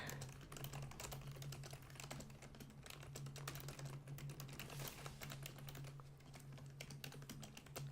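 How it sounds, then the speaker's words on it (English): Quiet rapid typing on a computer keyboard, a continuous patter of soft key clicks with an uneven rhythm over a low steady hum, no voices. "Sorry, I'm such a slow typer."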